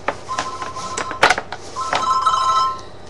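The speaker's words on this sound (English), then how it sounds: "That's my phone." A telephone rings indoors in a few repeated electronic trills, loud and close, with no talk over it.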